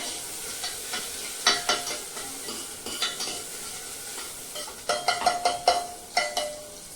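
Onion frying in a pan in a home kitchen, a quiet steady sizzle broken by sharp, close scraping stirs that come in clusters, with no talking.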